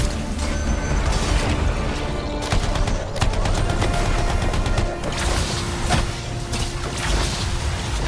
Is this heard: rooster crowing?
no